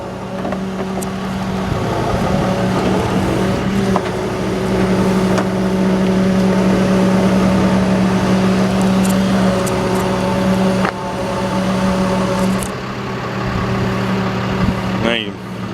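A tow truck's hydraulic rollback bed lifts, its engine humming steadily with a sustained motor drone throughout, punctuated by a few clanks, while people talk nearby.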